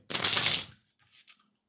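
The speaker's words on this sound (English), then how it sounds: "So we get in the deck couple shuffles." A Bicycle frosted deck of playing cards riffles in one short, close burst, followed by a few faint taps as the cards settle.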